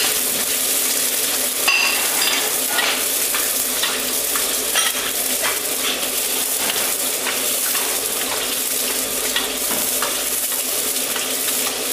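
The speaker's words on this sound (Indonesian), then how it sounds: "Kita goreng buncis, jangan terlalu matang, setengah matang saja." Green beans stir-fry Sichuan-style in a hot pan with a loud, continuous sizzle and occasional scraping and stirring clatter, close up, with no talking.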